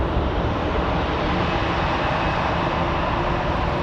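A large airliner powered by Rolls-Royce Trent jet engines departs from Raleigh-Durham International, a loud, steady broadband engine roar that fills the whole clip without a break.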